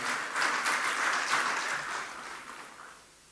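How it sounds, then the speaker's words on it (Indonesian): Audience applause for the Indonesian president, a burst of clapping that swells briefly then fades away, heard faintly at a distance. "Tepuk tangan untuk beliau"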